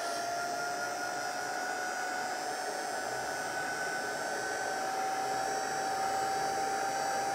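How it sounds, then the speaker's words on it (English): Electric heat gun on its first heat setting drying freshly stamped ink on paper gift tags, a steady close blowing whoosh with a faint motor whine running unbroken throughout. "using our heat gun and I'm just going to put it on the first heat setting just to dry that ink off"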